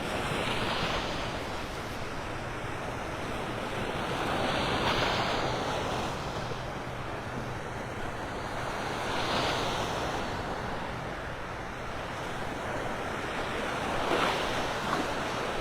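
Ocean waves wash steadily onto the beach at Clam Pass Park in Naples, Florida, a continuous surf roar with gentle swells rising every few seconds, mixed with some wind rumble on the microphone.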